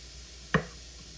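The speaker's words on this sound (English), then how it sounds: "chopping vegetables" A single crisp knife strike on a cutting board while chopping vegetables, one sharp close tap against a quiet kitchen background.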